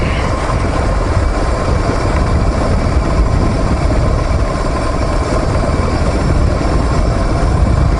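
A steady, loud motorbike engine rumble runs throughout, idling as the bike coasts downhill on Otay Mountain, low and continuous with wind-like noise, close by.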